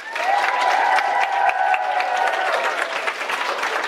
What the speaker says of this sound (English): Everyone, a huge round of applause for Gillian Cross